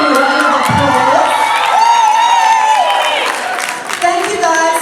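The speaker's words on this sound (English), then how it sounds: "Please give them a round of applause." Audience applause and cheering erupt at a fashion show as a crowd claps, whoops and shouts excitedly, with high-pitched cries rising above the steady clapping.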